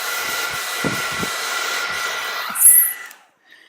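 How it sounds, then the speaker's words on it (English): A hair dryer blows with a steady, whirring roar, then a brief higher whine flares before it cuts off into near silence. "You got a hair dryer as a space heater."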